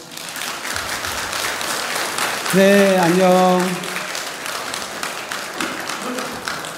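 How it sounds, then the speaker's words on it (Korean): An audience at a Buddhist temple Saturday service applauds a children's group, a continuous patter of clapping throughout, while a few voices, including a brief sung or drawn-out greeting, rise over it midway. "우리 영꽃 어린이 회원들에게 박수 한번 보내주세요"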